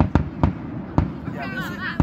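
Sharp Fourth of July firework bangs pop out four or five times in irregular succession, fairly close and loud, with a voice speaking between the blasts.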